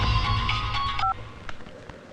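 Telephone keypad tones sound as a number is dialed. A short run of electronic beeps comes over a low background hum, then the line falls mostly quiet.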